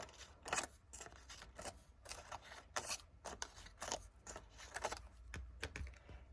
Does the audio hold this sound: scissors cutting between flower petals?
yes